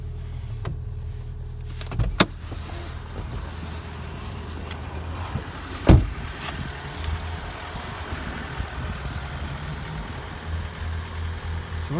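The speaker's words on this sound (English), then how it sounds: "electric windows front and rear" Electric windows on a Toyota Auris Icon 1.4 D-4D hatchback whir as they run, a faint motor hum under a low idling engine, broken by a couple of sharp clicks and a thud.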